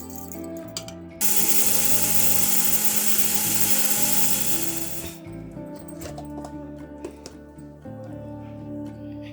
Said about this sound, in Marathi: आता हे तांदूळ आपण वाटून घेऊया.